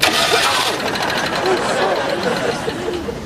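An engine turns over and keeps running with a steady mechanical drone and faint rhythmic ticking, while voices chatter over it throughout.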